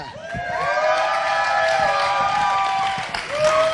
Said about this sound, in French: voilà comment ils applaudissent